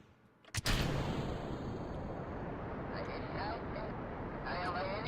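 In Kerbal Space Program, a rocket stage ignites with a sharp burst, then settles into a sustained, loud, broadband roar of engine thrust that continues steadily, with faint higher tones layered on top.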